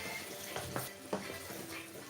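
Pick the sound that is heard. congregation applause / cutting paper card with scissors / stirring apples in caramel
stirring apples in caramel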